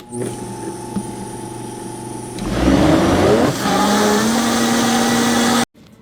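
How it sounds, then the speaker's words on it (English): A countertop blender whirs up avocado tofu mayo with lime, starting with a low motor hum, then ramping up loudly as the blade spins faster before cutting off abruptly near the end. "And then we're going to blend it up again."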